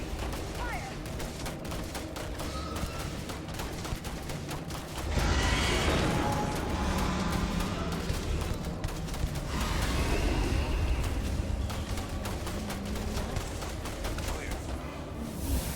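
Sci-fi gunfire from a Starfield firefight, with bursts of shots and mechanical clatter that swell into a dense, loud volley midway and then ease back. A voice talks over the shooting.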